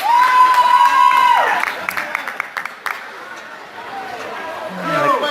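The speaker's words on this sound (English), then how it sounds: "The crowd seems to be okay with that call." A youth hockey crowd, under-13 Michigan against Birmingham, cheers and claps loudly after an empty-net goal. A whistle sounds at the start, then the noise fades into scattered chatter and swells again near the end.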